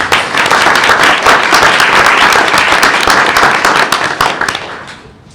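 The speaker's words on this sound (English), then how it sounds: "Let's give them another round of applause." A room at a board meeting erupts in loud, dense applause that stays strong and continuous before tapering off at the end.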